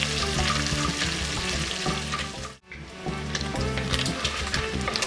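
Bacon frying in a pot for Irish lamb stew, rendering its fat, a loud close crackling sizzle with stirring scrapes, briefly cut off midway, with no talk.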